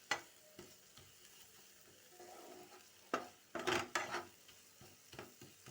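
Spice masala with onion fries in a pan, a soft sizzle underneath irregular scraping stirs and clinks of a spoon against the pan, with a few louder bursts of stirring clustered near the middle.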